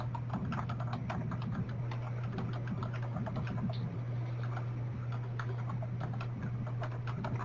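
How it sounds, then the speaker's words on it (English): Keyboard typing comes through a phone call line as rapid, irregular clicking, fairly faint and held over a steady low hum, with no one speaking. "whoever's typing, please mute your phone"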